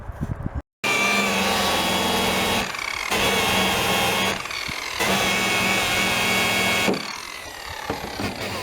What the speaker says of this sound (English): If you tilt this angle or this buffing brush on its edge like that and put more pressure, I mean, it'll quickly go down to metal.